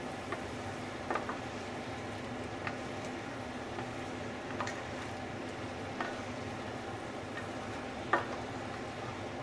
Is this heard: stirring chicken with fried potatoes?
yes